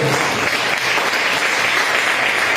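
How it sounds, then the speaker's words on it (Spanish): A church congregation claps loudly and steadily in a dense wash of applause, close and sustained throughout. "Denle un aplauso al Señor, hermano."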